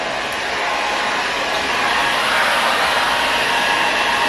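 A hair dryer set to low heat blows as a steady, continuous broadband whoosh, close and fairly loud, holding even throughout with no talk over it.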